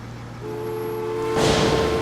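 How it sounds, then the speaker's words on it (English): A small train runs in Transport Fever with a quiet rolling hum and steady tones, swelling into a louder, brighter rush of noise over the last half second. "Look at this baby train over here."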